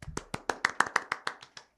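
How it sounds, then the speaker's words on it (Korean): A small group claps about a dozen times in quick, even succession to welcome a new co-host on a Korean finance podcast, close and crisp, stopping just before a voice begins. "박수로 한번 맞이하겠습니다"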